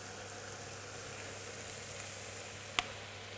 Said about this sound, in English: The rice is boiling away nicely.